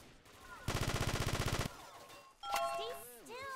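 Video game gunfire: a rapid automatic burst of roughly a dozen evenly spaced shots, loud and close, followed by chiming game effects.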